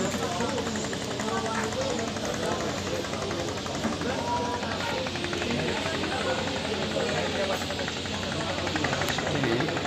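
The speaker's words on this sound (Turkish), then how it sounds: "Şu an bir teknemiz daha balığa gidiyor." A fishing boat's engine chugs steadily as the boat heads out to sea, a continuous low rumble with knocking vibration filling the background throughout, while people talk nearby.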